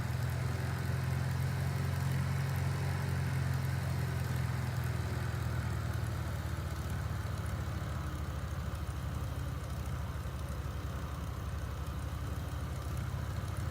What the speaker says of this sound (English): I have noticed this carbureted engine is a little bit slow.